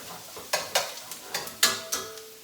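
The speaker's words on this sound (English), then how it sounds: "You can still hear it sort of sizzling in the pan" Food frying in a pan, with a low steady sizzle broken by several sharp scraping strokes, like a spatula stirring, close by and fairly loud.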